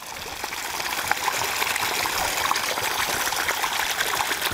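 Water runs steadily down a garden riverbed water feature that recirculates from a bottom sump via a float valve, a continuous close trickling and splashing stream with no voices.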